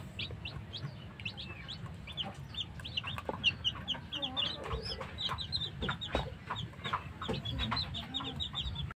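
Young chicks of a pure white Asil chicken peep and cluck continuously in a busy, overlapping chorus of short high chirps over a low background rumble.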